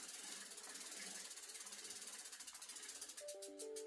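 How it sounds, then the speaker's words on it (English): A Schwinn Breaker 29-inch mountain bike freewheel ratchets in a fast, even clicking as the pedals spin backwards, faint and close, with a short tonal whine near the end. "if you just freewheel backwards, you can usually finger tight your pedals on"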